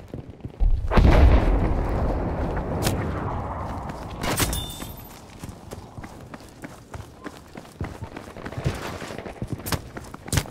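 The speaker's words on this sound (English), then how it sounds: "An artillery barrage sent to this location." An artillery barrage lands in Battlefield V on the Provence Breakthrough map: a heavy explosion, then scattered booms and crackling impacts at varying distances over a low rumble.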